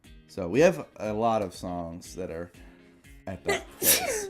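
A single sharp sneeze from a person bursts out at the end, after a stretch of someone talking.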